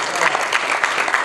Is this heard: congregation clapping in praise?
yes